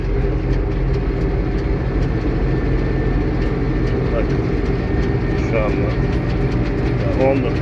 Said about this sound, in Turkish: Gazı şimdi 19 devre getireceğim. Motor hoplama başlayacak.